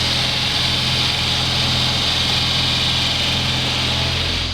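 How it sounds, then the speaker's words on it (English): A steady whooshing air conditioning fan in a crash-damaged 2018 Audi S5 Sportback, running loud and continuous with a low mechanical hum beneath. "That's definitely that AC fan"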